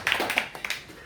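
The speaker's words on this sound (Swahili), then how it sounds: "Patia Yesu makofi." A church congregation claps for Jesus during a sermon: a close, uneven run of sharp hand claps in scattered bursts over about a second.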